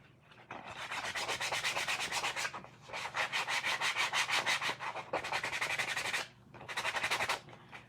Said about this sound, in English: I'm going to sand this carrot.